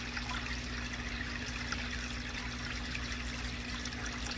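Water runs steadily into a DIY bucket filter for a guppy pond, a constant broadband splashing and trickling with a low hum underneath, unbroken and close for the whole stretch.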